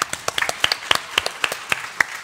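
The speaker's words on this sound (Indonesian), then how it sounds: "Kita boleh kasih tepuk tangan sekali lagi, boleh?" Scattered clapping from a small audience at a church wedding anniversary celebration, a sparse, uneven series of distinct handclaps over a couple of seconds, fairly close and unaccompanied by talk.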